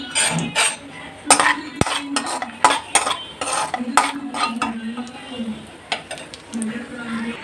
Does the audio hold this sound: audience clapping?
no